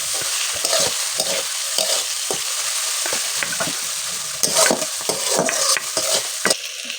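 A spice paste mixed with water goes into hot oil for mutton curry and is stirred, giving loud sizzling and frying hiss broken by repeated scraping stirs of a utensil against the pan, close and without voices.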